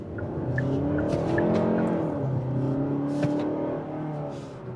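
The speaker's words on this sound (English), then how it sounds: "Let's see how this car feels when you accelerate." Kia K5 GT-Line sedan, 2026 model, accelerating hard in sport mode with manual shift points, engine note rising steadily from inside the cabin, continuous and fairly loud with no talking.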